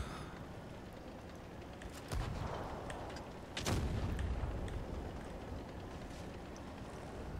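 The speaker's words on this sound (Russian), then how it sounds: "917, взрыв БК." Tank ammo rack explosion in the Tanks Blitz game, heard as two muffled booming blasts a couple of seconds apart over a steady background rumble, fairly quiet overall.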